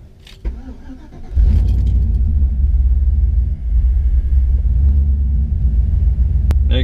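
A supercharged Chevrolet Tahoe engine cranks and fires after a short clicking start, then settles into a loud, deep, steady rumble close by, with a brief dip in level partway through.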